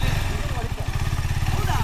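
A vehicle engine runs loud and close with a steady low rumble and rattle while crossing water at Maidala lake in Tumakuru, holding continuously throughout.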